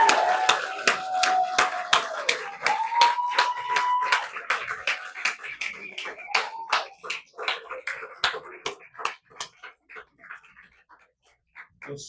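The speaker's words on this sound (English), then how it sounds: "Karen Burton-Reeder, stand up for a round of applause." Audience in a ceremony hall for a marathon swimming hall of fame induction claps for an honoree, a dense burst of applause that thins into scattered claps and fades out, with a voice briefly audible early on.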